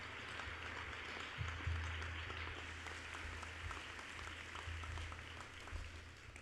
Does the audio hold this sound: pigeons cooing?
no